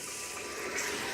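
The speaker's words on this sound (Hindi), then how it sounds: "थोड़ा सा पानी डाल के" A little water poured into a pan of chicken, giving a short, soft, steady splash and hiss.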